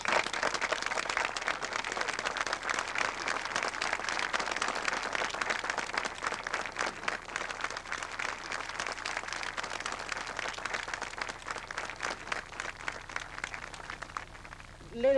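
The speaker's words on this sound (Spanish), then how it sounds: "yo les invito a que despidamos a Campitos con un fuerte y cariñoso aplauso" Mourners at a funeral farewell give warm, sustained applause, a soft, continuous patter of many hands clapping at moderate distance that carries on steadily for the whole stretch before fading at the very end.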